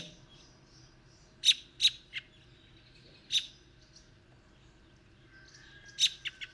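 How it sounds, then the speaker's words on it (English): American robin calls: sharp, high notes repeated in short bursts, several quick notes then pauses, fairly close over a quiet background hum in the evening after dusk. "so that's robins"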